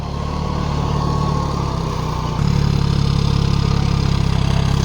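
A Powertrac Euro 45 tractor engine runs in low gear, a loud, steady, deep diesel chug close by that grows slightly heavier midway.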